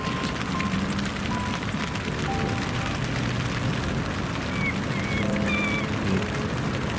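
Steady rain falls at a riverbank during a winter fishing session, a constant even hiss with no pauses and no voices over it.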